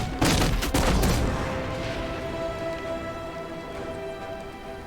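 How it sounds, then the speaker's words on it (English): Gotham video game action sounds like a flight simulator: a dense burst of crackling, rapid-fire noise for about a second, then a sustained mechanical hum that slowly fades. "Sounds like a flying simulator."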